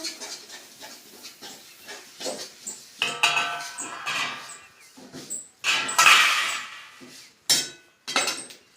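Sesame seeds for laddoos are stirred in a metal pan, giving irregular close scraping and clinking strokes with bright metallic rattles, some louder bursts, and no talk.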